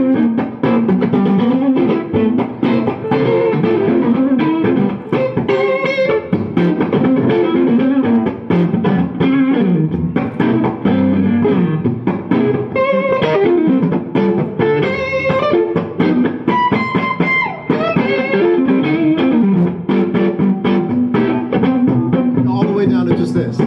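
A distorted electric guitar chugs steadily through a PRS amp, loud and continuous with a bouncy rhythmic pattern and occasional higher bends.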